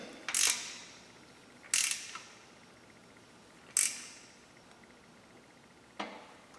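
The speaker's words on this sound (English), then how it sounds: "we're going to take the 10mm ratchet wrench again, and we're going to go ahead and get that as tight as we can get it" A 10mm ratchet wrench tightening a bolt gives four short, crisp clicking bursts spaced about two seconds apart, close and clear against a quiet background.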